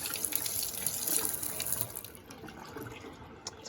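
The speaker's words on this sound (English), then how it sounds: "And this is hot water." Hot water runs steadily from a tap fed by an off-grid gravity-fed system with a propane heater in a cabin, a close continuous hiss and splash that eases slightly toward the end.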